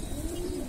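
An old racing pigeon gives a short, low, soft coo, heard close but quiet and alone.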